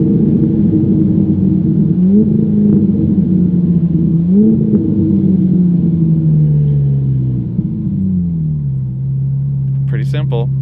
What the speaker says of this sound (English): It's automatically rev matching the car.